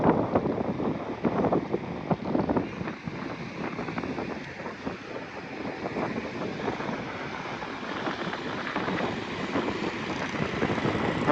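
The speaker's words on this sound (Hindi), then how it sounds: "हवा भी काफ़ी तेज़ है, क्योंकि इस जगह पर आकर काफ़ी हवा तेज़ मुझे मिलती है।" Strong wind buffets the microphone at an expressway interchange construction site, a steady, loud broadband roar that holds throughout with no voices.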